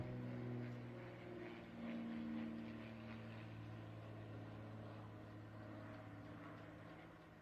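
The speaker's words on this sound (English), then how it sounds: "That was the flyover." A distant aircraft flyover at a Memorial Day ceremony at a national cemetery hums as a steady low engine drone, faint and sustained throughout with a slight swell early on.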